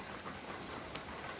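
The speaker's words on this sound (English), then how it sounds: "raining out here." Steady rain falling outdoors, a soft continuous hiss with scattered drop patters, alone and fairly faint.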